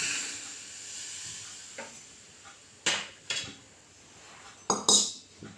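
A quiet background hiss broken by several sharp metallic clinks of a spoon against a pot of milk with date powder, scattered irregularly.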